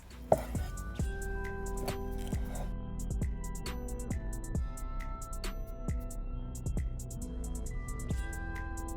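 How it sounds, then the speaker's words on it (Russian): A knife chops tomatoes, peppers and sausage into small cubes for a campfire bograch goulash, giving a steady series of sharp board knocks under soft background music. "мелким кубиком нарезаем все остальные продукты. Помидоры, перец и колбасу."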